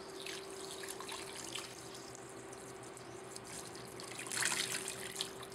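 Simulated nominal rainfall runs over a small drainage model of a town, a steady soft trickling and pattering hiss with a constant faint electrical hum underneath, no voices.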